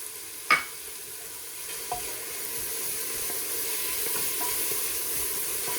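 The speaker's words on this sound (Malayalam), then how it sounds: "ഇളക്കി നമുക്ക് വഴറ്റാം." Onions sautéing in a pan for a Kerala chicken biriyani, a steady close sizzle with a sharp utensil clack early on and soft stirring scrapes, no one talking.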